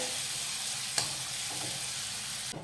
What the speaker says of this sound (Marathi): इथे आपण मिरचीचा ठेचा तुपावर व्यवस्थित परतून घेतलेला आहे